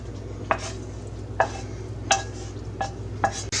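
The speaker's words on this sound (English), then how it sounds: "Stir that in." Cooked ground beef is stirred into a pot, a spoon knocking and scraping against the metal in about five separate strokes over a faint low sizzle.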